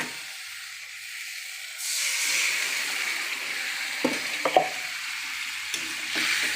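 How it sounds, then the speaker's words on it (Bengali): Steamed papaya is tipped into a hot frying pan, setting off a loud sustained sizzle and hiss, followed by a few scraping clinks of a spatula stirring it for a fish curry. "এবার আমি পেঁপেটা ঢেলে দেবো।"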